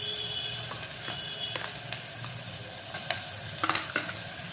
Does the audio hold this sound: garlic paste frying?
yes